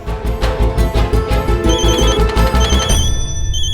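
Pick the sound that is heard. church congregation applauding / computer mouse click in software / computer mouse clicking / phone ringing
phone ringing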